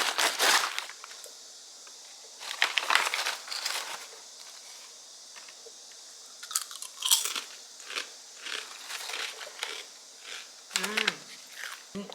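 Crunchy fried chicken is chewed close up, with repeated crisp, crackling bites in uneven bursts and short pauses between them, and no talking.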